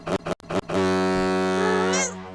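Car horn in the video game Otogirisou, a single long, loud, steady honk with rich harmonic tone, held for about a second and a half after a few brief blips, sounding alone.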